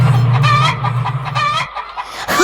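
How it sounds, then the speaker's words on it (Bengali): Caged chickens cluck loudly and close by in quick, overlapping bursts, with a few higher squawks toward the end. "এই খাঁচার মুরগিগুলোকে সব কটা দূর করে দিন এক্ষুনি"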